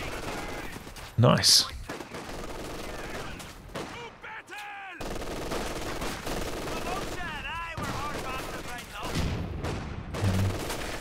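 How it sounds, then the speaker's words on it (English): MG42 machine gun fire in the Company of Heroes 2 strategy game, with bursts of rattling shots and battle noise at moderate loudness under a commentator's talk. "commanders can shoot the MG42 on the move"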